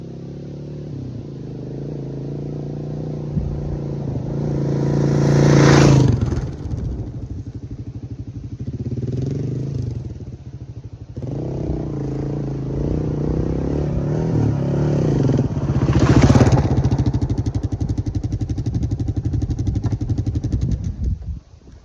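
Motorcycle ridden around off highway on gravel, engine droning past with two louder revving surges as it passes nearby, then fading and returning.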